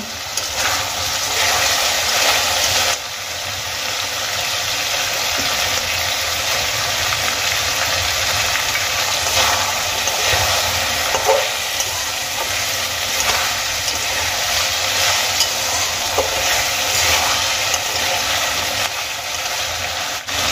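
Cabbage and mixed vegetables fry in a pan with eggplant pieces added, producing a loud, steady sizzle broken by occasional stirring scrapes, continuous and close throughout.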